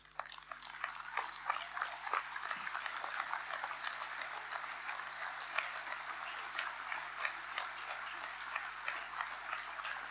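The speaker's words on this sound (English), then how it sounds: "Let us stand and give them, our defense forces, a thunderous, roaring applause" Audience applause in a formal hall during a salute to India's defense forces, a dense, steady wash of many hands clapping that holds at moderate loudness throughout, fairly distant and reverberant.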